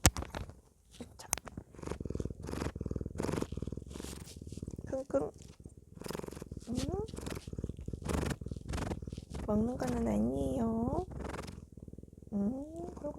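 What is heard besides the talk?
pet cat purring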